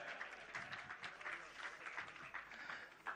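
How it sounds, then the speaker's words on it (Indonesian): An audience applauding at a storytelling event, steady clapping heard at a distance and fairly faint throughout. "Boleh tepuk tangan."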